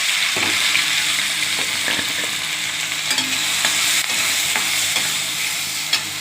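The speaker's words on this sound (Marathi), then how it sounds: "तर आपण कांदा भाजून घेऊ." Onion frying in hot oil in a kadhai, a continuous bright sizzle with occasional louder pops and crackles, close and steady, no voices.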